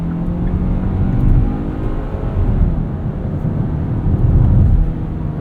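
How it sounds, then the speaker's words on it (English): A 2022 Hyundai Tucson XRT AWD with a 187-horsepower engine accelerates from a standstill, a loud, steady engine drone rising in pitch with low rumble, heard from inside the cabin with no talking. "Acceleration feels pretty good up to 60 miles per hour"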